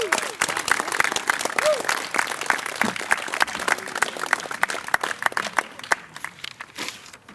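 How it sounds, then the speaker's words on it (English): Applause from an audience at a 2015 veterans honor walk ceremony, a dense patter of claps that goes on steadily for several seconds and thins slightly toward the end, with voices talking over it. "Let's give her a round of applause."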